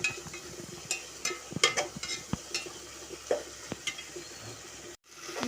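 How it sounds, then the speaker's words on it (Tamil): Prawn biryani masala with ginger-garlic paste being stirred in a pan: repeated scraping strokes and clinks of a spoon over a steady low sizzle, close and moderately quiet, with a brief dropout near the end. "நல்லா அடி பிடிக்காமல் கிண்டி விடுங்க."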